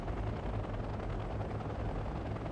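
A small, fast A22 Squirrel recon helicopter in the video game Wargame: Red Dragon gives off a steady, dense rotor-and-engine drone. The sound is loud and unbroken throughout, with no voices over it.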